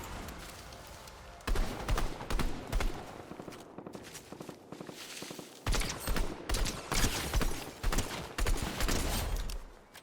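Bursts of rapid drum gun fire from a Fortnite Zero Build match, loud stuttering volleys in short clusters separated by brief gaps, with other battle sounds around them.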